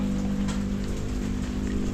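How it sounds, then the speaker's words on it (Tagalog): Heavy rain pouring down outside a house on a rainy day in the Philippines, a steady, dense hiss of drops on surfaces with a low rumble underneath, continuous and close, with no one talking. "Hindi nga tayo nakatrabaho kanina dahil malakas nga yung ulan"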